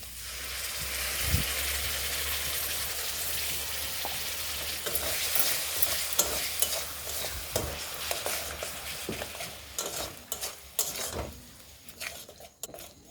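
Narasingha leaf paste frying with spices in a pan, a loud, steady sizzle with stirring scrapes and clicks that grows patchier and quieter toward the end.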